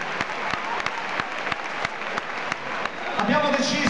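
A concert audience at an arena hip hop event applauds steadily for Tommaso, dense continuous clapping with occasional sharper claps, and a voice briefly cutting in at the end.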